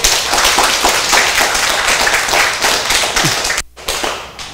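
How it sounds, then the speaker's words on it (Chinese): An audience claps loudly at the closing address of a beginner class, with dense, sharp hand claps rolling on for several seconds, then a brief drop before the clapping resumes more thinly. "家己鼓掌一下"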